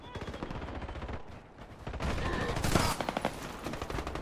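Rapid repeated blasts from a PA Gabaribaldi 12-gauge shotgun in a video game come in dense bursts with a brief pause, loud and close, with game effects mixed in.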